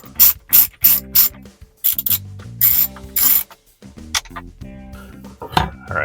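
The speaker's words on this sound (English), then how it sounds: "Use a ratchet." Ratchet wrench driving 7mm bolts on a truck phone mount for a Chevy Colorado, quick bursts of clicking pawl strokes in repeated runs with short pauses between, close and fairly loud with no talk.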